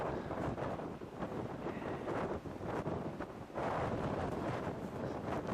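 Strong headwind gusting across an open disc golf course, a steady rough roar with surging gusts buffeting the microphone throughout, no voices.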